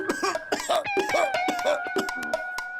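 A man with a cold coughs hard in a quick run of harsh bursts, repeated over a steady tonal background.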